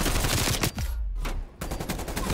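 Rapid automatic gunfire firing through a wall in the video game Black Ops Cold War, loud sustained bursts with a brief gap before resuming.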